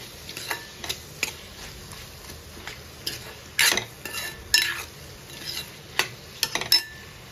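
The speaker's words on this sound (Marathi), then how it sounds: "पुन्हा हे मिश्रण छान एकजीव ढवळून घेऊ." Mushroom bhaji mixture stirred in a pan with a spoon, irregular scraping strokes and light metallic taps over a faint sizzle, close by and moderately quiet.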